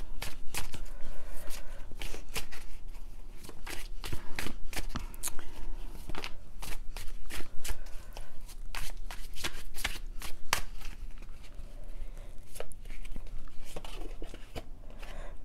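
Oracle and tarot cards, including a Twin Flame Journey Oracle deck, are shuffled by hand in a steady stream of close, crisp riffling and slapping bursts, alone with no talking.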